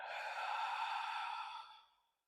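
A long, deep exhale in the middle of a yoga flow, a breathy sigh that starts strong, holds for over a second, then tapers off into silence. It is close and clear, with no talking over it.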